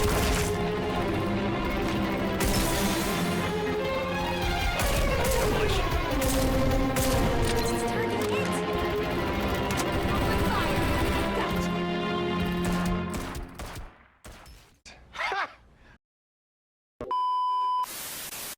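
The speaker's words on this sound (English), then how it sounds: "Let's rumble. Open fire." Rapid gunfire in a shooter video game, dense continuous bursts layered with game music and effects, then dropping to sparse shots, a gap of silence and a final electronic tone.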